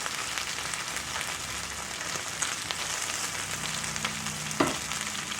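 Okra frying in oil in a cast iron skillet for Southern fried okra, a steady crackling sizzle that stays fairly quiet, with a couple of faint clinks partway through.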